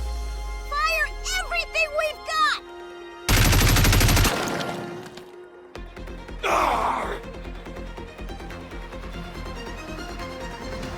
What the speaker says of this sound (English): Fire everything we've got!